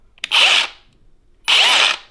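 Milwaukee cordless power tool in hammer mode, running in two loud bursts of roughly half a second each, separated by a short pause, with a brief click just before the first burst.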